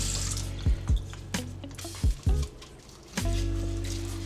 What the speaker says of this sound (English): So what I'm gonna do is rinse that off.